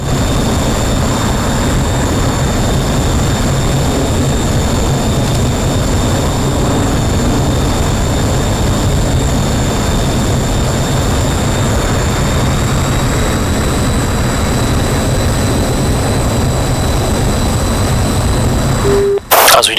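Simulated jet engine of an MB-339 trainer in DCS flight simulation hums steadily and loud with a constant high whine, airbrake out and flaps set during descent, ending in a brief click.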